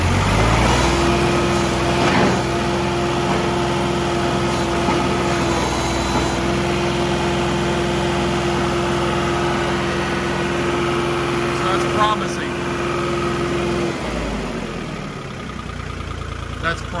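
A John Deere tractor engine runs steadily at a low idle with a sustained tonal hum, loud and close, while the loader bucket moves, then the tone drops away near the end.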